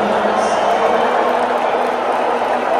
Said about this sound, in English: the entire stadium was booing Donald Trump when he came on the Jumbotron